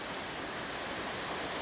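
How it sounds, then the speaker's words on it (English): Steady rushing water of a creek or very small river beside a hiking trail near Rangeley, Maine, a continuous broadband wash with no distinct events, moderately loud and heard alone. "you'll hear the rushing of waters"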